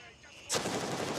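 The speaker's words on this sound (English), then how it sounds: "Where are they shooting from?" Gunfire in the military shooter Gray Zone Warfare erupts suddenly after a quiet moment, a sharp loud shot followed by a dense rattling burst that fills the short span.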